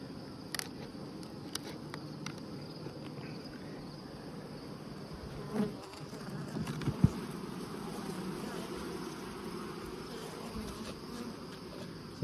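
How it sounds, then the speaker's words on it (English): Honey bees buzz steadily around an open hive box showing some bearding, a continuous close insect hum with a few brief louder passes and faint bumps, no talking. "So that's a box of bees there."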